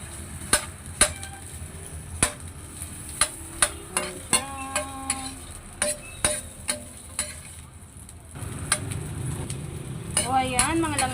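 Onions light frying in olive oil, a faint sizzle under a series of sharp metallic taps and clinks of a utensil on the pan, growing louder and hissier near the end.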